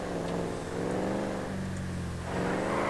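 A 1969 Ford Mustang Boss 302 V8 revs in GTA 5 around Los Santos, a steady, fairly quiet engine drone rising and falling in pitch as the throttle works, with no talking over it.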